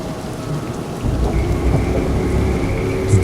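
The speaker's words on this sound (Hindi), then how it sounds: "बाहर हल्की हल्की बारिश हो रही है।" Steady heavy rain pours with a deep rumble of thunder rolling underneath, loud and continuous, swelling after the first second, with no voices.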